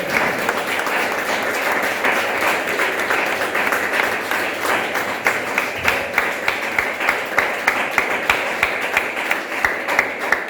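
A congregation in a Spanish-speaking church claps loudly and steadily, a dense wash of hands that continues for about ten seconds. Toward the end the clapping turns into rhythmic beats.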